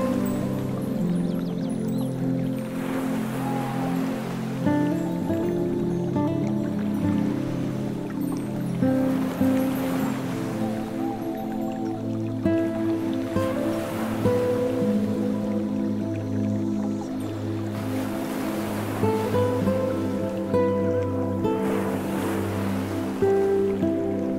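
Ocean waves washing onto a beach, a steady layered surf with repeated swells rising and falling over about twenty-four seconds, continuous and moderately loud, with no voices.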